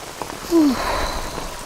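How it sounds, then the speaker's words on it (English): Steady rain patters on a tent pitched over a coffin at an outdoor burial, a continuous wash of drops with a brief low sigh-like sound partway through. "Guess they can't really finish until the rain stops."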